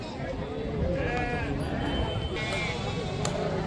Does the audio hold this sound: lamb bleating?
yes